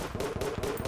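Rapid gunfire from a Terraria weapon firing standard ammunition, a quick run of loud, evenly spaced shots lasting under a second with no talk over it.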